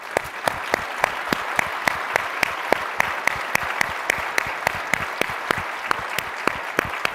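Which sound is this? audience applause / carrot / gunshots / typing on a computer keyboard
audience applause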